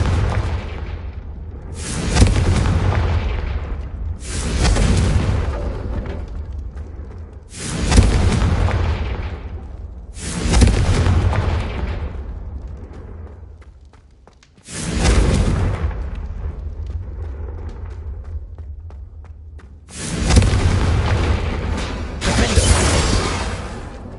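Repeated heavy fiery blasts from the Confringo spell in Hogwarts Legacy, about five loud booming bursts spaced a few seconds apart, each with a sharp onset and a rumbling decay.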